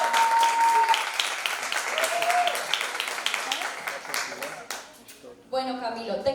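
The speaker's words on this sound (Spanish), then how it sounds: "un aplauso para él" An audience applauds a speaker at a dramaturgy talk, dense clapping that thins out before a voice starts speaking near the end.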